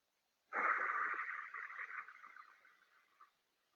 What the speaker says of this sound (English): And then breathing out.